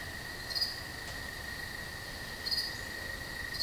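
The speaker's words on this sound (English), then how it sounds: "I can hear a little cricket up there" A single cricket chirps steadily from somewhere above in a pottery studio, a thin continuous trill with two slightly louder swells, fairly faint and alone with no talking.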